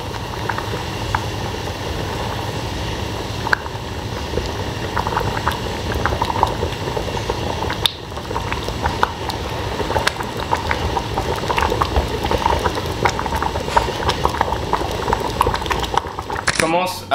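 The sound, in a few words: water boiling in a pot of sushi rice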